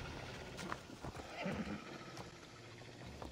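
A horse neighs and its hooves clop in Assassin's Creed Odyssey, a short whinny followed by light hoofbeats, fairly quiet, over a low game ambience with no talking.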